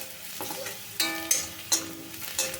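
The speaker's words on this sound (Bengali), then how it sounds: "পেঁয়াজটাও একটু ভালো করে ভেজে নেবো" Onions fry in a wok with a pinch of turmeric, giving a soft steady sizzle broken by several sharp spatula clanks and scrapes against the pan, close by.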